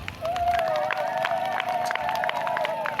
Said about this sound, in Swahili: Pigie tena Yesu makofi.